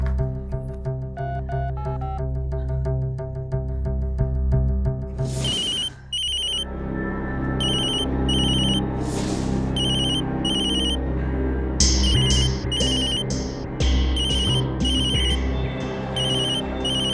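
A phone rings with an incoming call: a loud, near electronic ringtone repeats its melodic pattern over and over, with a brief break partway through, and no one speaks.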